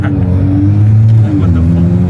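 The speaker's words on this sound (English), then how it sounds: "Revving." A BMW engine fitted with an SSR downpipe revs steadily, its droning exhaust note rising and holding close by for a couple of seconds, loud and filling the space without any speech over it.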